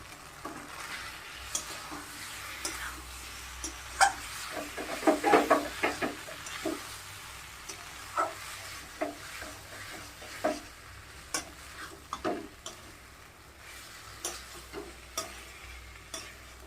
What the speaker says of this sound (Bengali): মশলাটা ভাজা হয়ে গেছে, আমি এখন আলুটা দিয়ে দিচ্ছি।